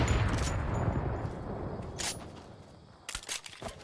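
Sniper rifle shots in the Fortnite video game, a few sharp cracks standing out against a low background rumble, one single report followed later by a quick cluster of shots.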